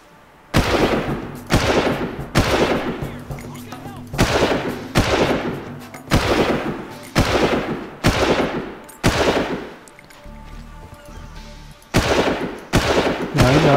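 Rapid bursts of automatic gunfire in the Far Cry shooter, about ten loud close volleys separated by brief gaps, with faint game ambience underneath and no talking.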